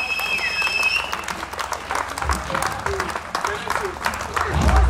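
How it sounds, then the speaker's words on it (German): Applause from an open-air blues concert audience at Parkbühne Biesdorf in Berlin, steady crowd clapping with a few whistles, sustained throughout at moderate loudness with some voices mixed in. "Applaus dazu und vielen Dank."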